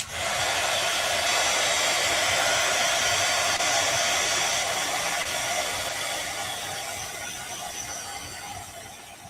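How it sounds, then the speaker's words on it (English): A handheld heat tool blows hot air over wet paint on an art piece, a loud, steady whirring roar close to the mic that continues without a break and eases slightly toward the end. "Let me hit this with the heat tool."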